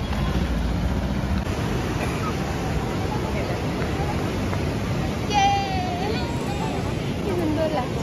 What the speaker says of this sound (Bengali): চলে এসছি একদম সমুদ্রের ধারে